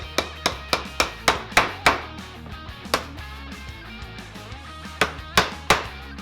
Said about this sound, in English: use another block of wood to hammer them until fully seated